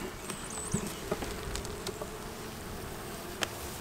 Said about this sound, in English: Good bit of bees right there.